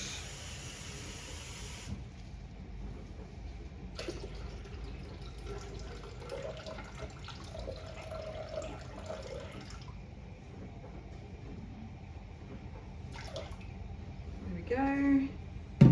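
Water poured into a Thermomix bowl, a litre added to steam rice in the basket above, running as a steady splashing stream with brief pauses and a few clinks near the end.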